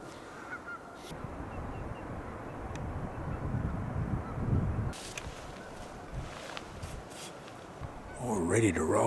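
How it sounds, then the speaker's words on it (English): Geese honk out in a forest clearing under steady cold wind noise, distant and partly buried, with a few sharper calls standing out near the end. "There's a couple more geese out there making a hell of a racket out in the middle of the clearing"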